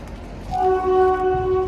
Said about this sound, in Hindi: ट्रेन की आवाज़ आ रही होगी आपको मेरे पीछे।